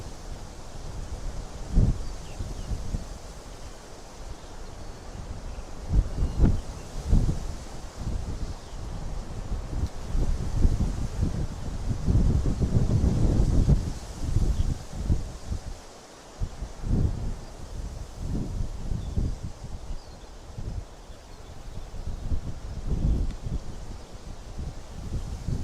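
Strong wind blows across an open farm in summer, a steady roar of microphone buffeting with rustling leaves and gusty thumps rising and falling for the whole stretch, loud and close.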